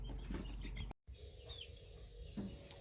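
Three-week-old hatchery pullet chicks in a brooder, giving soft scattered peeps and chirps, faint and close, with a brief dropout partway through.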